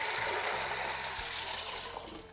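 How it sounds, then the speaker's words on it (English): Water pouring from a container over sorted, rinsed red beans in a pan for soaking, a steady, close gushing splash throughout with no talking. "We're going to go ahead and pour 8 to 10 cups of water over the beans."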